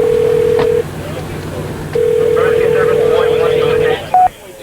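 A telephone line gives a steady dial tone that cuts out, returns, and stops, followed by a short dialing beep, with muffled talk faintly underneath.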